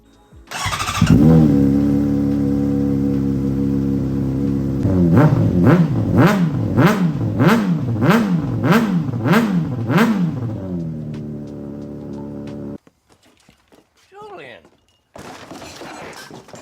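A Honda CBR600RR sport bike with an aftermarket exhaust fires up loudly nearby, settles briefly, then gets blipped in about eight sharp rising-and-falling revs before cutting off, leaving a few quieter bumps afterward.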